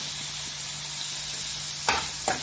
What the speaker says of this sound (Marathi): चांगलं कांदा आणि टोमॅटो छानसं परतून घ्यायचे तेलामध्ये मऊ होईपर्यंत